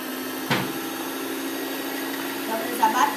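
An electric mixer whirs steadily as it beats boxed cake batter, a continuous close hum with a brief bump near the start, while someone speaks over it.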